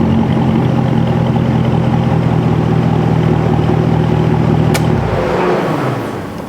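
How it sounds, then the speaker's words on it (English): Car engine idling loudly and close by, a steady rough rumble with a throaty mechanical tone that holds even, then drops away as the engine shuts off near the end with a brief click. "That's the first thing I thought of when I heard the car run."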